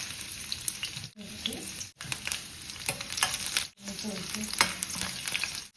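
Garlic and ginger spit and sizzle in hot oil in a wok, a dense close crackle broken by stirring scrapes and a few brief drops in level.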